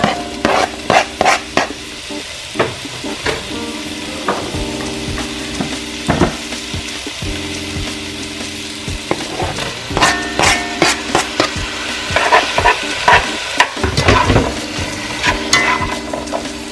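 Vegetables sizzle and fry in a pan for a Jamaican-style steamed fish and okra dish, with repeated sharp clanks and scrapes of a utensil stirring them, loud and close with no talking.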